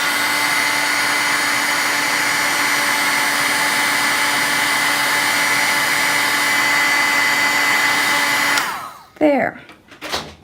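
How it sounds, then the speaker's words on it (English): Heat tool melting embossing powder on a Close to My Heart craft project, a loud steady blowing whir for about eight and a half seconds, then it cuts off and a person starts talking. "So I'm going to bring my heat tool back in."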